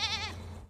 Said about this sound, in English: 300 hungry goats feasting on dry brush.